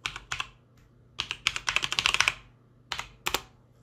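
A password is typed on a computer keyboard in quick bursts of close, crisp key clicks separated by short pauses, with no voices.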